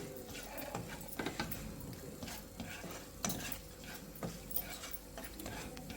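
Nuts roast in ghee in a pan, with a soft, continuous crackling sizzle and scattered light clicks as a utensil stirs them, heard quietly and close up with no talking.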